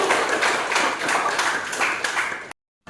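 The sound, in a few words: classroom clapping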